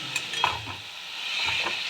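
Shrimp drop into a frying pan already seasoned with chili powder and salt, for a turnip and radish dish, giving a soft sizzle with a few stirring knocks and scrapes over about two seconds.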